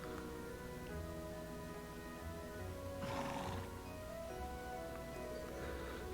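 In the video game Trails of Cold Steel II, a horse gives a clear whinny midway while hooves clip-clop steadily in the background, over a continuous musical bed.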